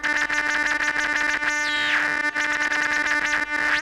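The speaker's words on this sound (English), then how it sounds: "I've created a mapping from that LFO to that frequency knob. And so I can now play." Buzzy Moog One synthesizer tone with harmonics and a swooping, wobbling filter sweep from an LFO modulating the filter frequency, continuous and loud, with warbling modulated texture throughout.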